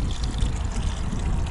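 Cold drinking water trickling and splashing steadily from a village tap or spring in rural Turkey, a soft continuous burble heard close up with no talk.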